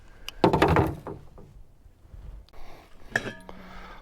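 A scratched copper gold pan being handled, giving a bright metallic clatter and knock up close, then a quieter scrape and a short ringing clink of metal.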